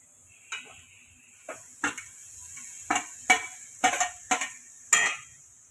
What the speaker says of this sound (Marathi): तर आता मी टाकत आहे हे पनीर